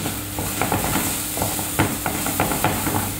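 A spoon of curry is stirred into split peas sautéing in a pot for vegan dahl, with steady sizzling and repeated scraping and tapping of the utensil against the pan.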